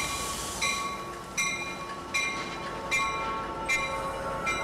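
A Metrolink commuter train, the 111, runs along rails on a Los Angeles line, with a steady rolling rumble and regular rhythmic clacks of wheels passing over rail joints, about every three-quarters of a second, heard close and continuous.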